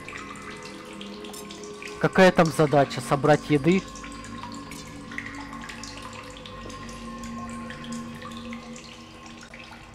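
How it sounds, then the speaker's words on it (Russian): Water flows loudly in The Solus Project video game, a steady running wash with a burst of choppy splashing sounds early on, while someone talks over it. "Что-то очень громко там вода шумела сейчас."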